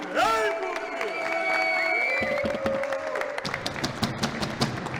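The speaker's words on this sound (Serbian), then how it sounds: "I najveći, najjači, najzamoglašniji aplauz za Luku Silu i Malo Bobija!" Audience at a boxing press conference breaks into applause and scattered cheers after a loud announcer's call, clapping building and continuing as tapping claps under lingering voices.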